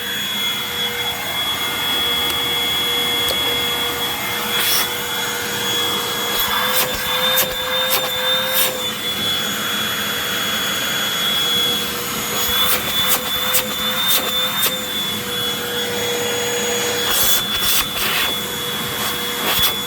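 A 2020 Hoover WindTunnel Maxx bagged upright vacuum cleaner runs loud and steady, a powerful whining motor roar with a high tone that holds throughout, broken by brief bursts of suction noise and no talk.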